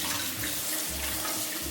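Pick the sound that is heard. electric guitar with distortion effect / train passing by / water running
water running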